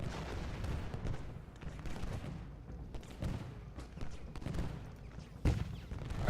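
Artillery and musket fire in the Civil War strategy video game Ultimate General Gettysburg, repeated booming cannon shots and crackling volleys over a continuous battle rumble, moderately loud with one sharp near blast toward the end.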